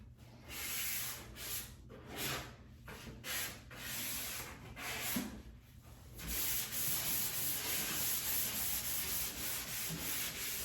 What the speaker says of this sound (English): These sanding pads are great.